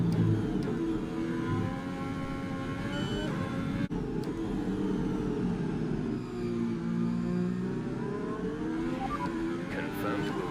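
A racing car engine drones steadily through a lap in a video game, its pitch rising and falling with gear changes, with a sharp click near the middle and a voice faintly underneath.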